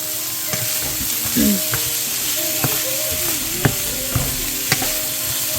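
Frying in a small amount of oil in a pot for bean soup: a steady close sizzle and hiss with occasional stirring scrapes and light clinks, with no talk.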